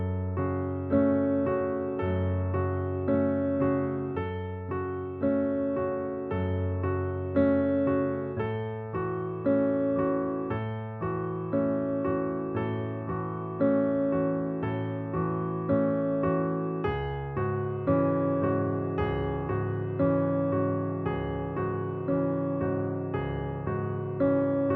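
Solo piano playing flowing chords, steady and resonant with sustained harmonies and a gently pulsing rhythm, moderately soft and close, no voices.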